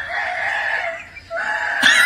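A person imitates a rooster crowing, drawing out two loud, close cock-a-doodle-doo calls with a brief break between them.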